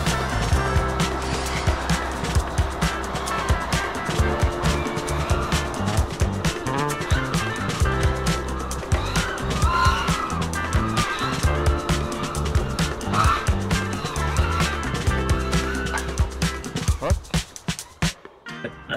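An FPV racing drone with VCI 2207 2160KV LT motors flying, a loud continuous buzzing whine that rises and falls with throttle changes, steady for most of the pass before cutting off abruptly near the end.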